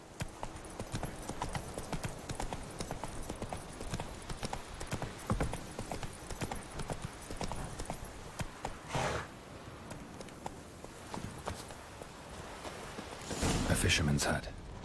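Hooves of Roach, the horse in The Witcher 3, clip-clop in a steady walking rhythm under game music and dialogue, with a louder burst of movement near the end.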